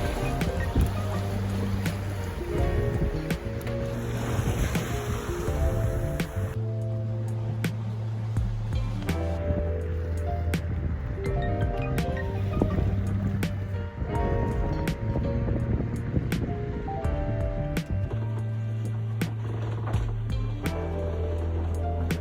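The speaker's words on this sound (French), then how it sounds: "Aujourd'hui, la mer est plus agitée, on a un peu plus de vent." Choppy sea and a stronger wind of 16 to 18 knots during a sailing crossing toward the Bahamas, heard as a continuous washing rush from aboard the boat with a low tonal hum and scattered knocks and clatters.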